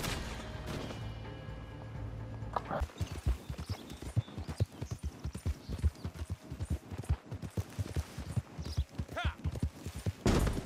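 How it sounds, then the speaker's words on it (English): A horse gallops through the Red Dead Online game world, its clip-clop hoofbeats rapid and rhythmic for most of the clip after a denser, noisier opening, close and fairly loud with bursts of other game sound. "And a horse has just spawned!"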